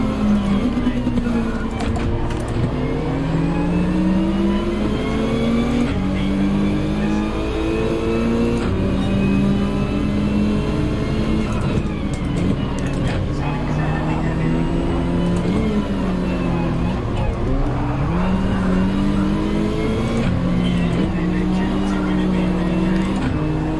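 A Lamborghini race car engine in Gran Turismo 7 drones and revs continuously, its pitch climbing and falling through gear changes, with a voice talking over it.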